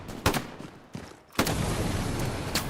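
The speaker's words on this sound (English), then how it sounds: "Gibbs is inside with the flamethrower." Flamethrower fire in the video game Hell Let Loose: a few sharp bursts, then a loud, sustained roaring gush of flame that runs steadily to the end, with no talk.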